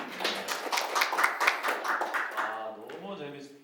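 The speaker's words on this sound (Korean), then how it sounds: "먼저 박수 좀 부탁드리겠습니다" A lecture audience gives a short round of clapping that builds quickly, with distinct claps close by, then fades as a voice begins speaking over the tail.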